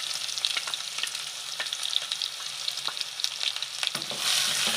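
Chopped onions frying in a pan, browning with a bright, crackling sizzle, steady and close with frequent small pops and occasional stirring scrapes, growing slightly louder at the end.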